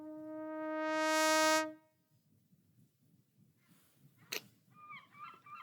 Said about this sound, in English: that was a trumpet